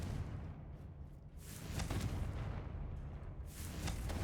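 A Confringo blasting spell in Hogwarts Legacy, heard as fairly faint, rumbling explosive booms, first one burst and then a couple more spaced a second or two apart over low game ambience.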